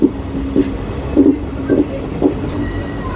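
Guwahati-Ledo Intercity Express rolling along the loop line through Sivasagar station in Assam, with a steady rumble and a few evenly spaced wheel clacks over rail joints, heard up close from aboard the train.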